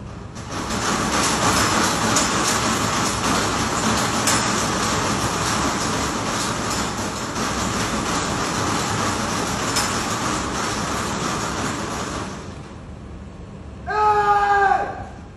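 Late at night, an angry man violently shakes and rattles a metal gate. The result is a loud, continuous, harsh clattering and banging lasting several seconds, with shouting mixed in. It then drops away, and a few brief squeaky sounds follow.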